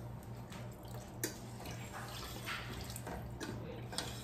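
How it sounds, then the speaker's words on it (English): Dry white wine poured into a cooking pot for a cioppino makes a faint, steady liquid trickle with soft splashes and drips, quiet against a low background hum. "I'll pour the wine."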